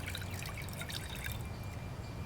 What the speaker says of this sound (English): You're going to want to pour the water into the bowl.